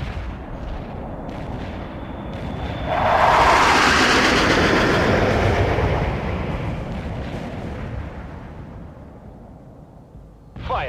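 Mortar and rocket launcher fire in the video game World in Conflict: a loud, rolling barrage of booms and crackling blasts that swells around the middle and then slowly fades, with a sharp burst right at the end.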